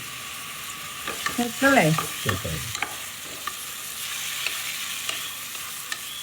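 Ingredients sautéed in a pan for a quick pressure-cooker egg curry: a soft, steady sizzle with a few scraping stirs, while a voice speaks briefly near the start.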